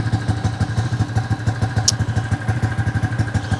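A Yamaha LC135 V8 motorcycle engine with an oil-loss problem idles steadily up close, its rapid even thumping loud and continuous and without odd noises, with a faint click partway through.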